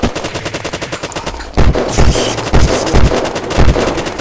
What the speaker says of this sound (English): Kill him with your ray gun!